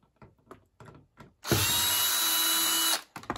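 A power drill runs loud and steady for about a second and a half as it backs screws out of the door of a Samsung Ecobubble washing machine, with short mechanical taps and handling clicks before it.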